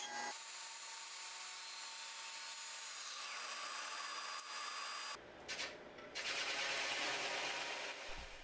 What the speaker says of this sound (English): I use my track saw to cut the piece to length